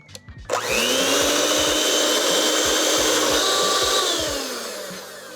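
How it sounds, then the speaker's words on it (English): An electric stand mixer with a paddle attachment creams cake batter for a dairy-free tres leches cake, starting up with a loud steady whir and a rhythmic thumping beat that runs close and alone, easing slightly near the end. "I've got the paddle attachments on my electric mixer. We're gonna give it a whirl"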